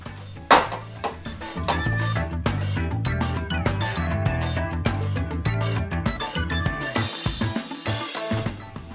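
A rib roast moved into a Cuisinart pan, with a run of clattering knocks and scrapes of metal cookware, close and fairly loud.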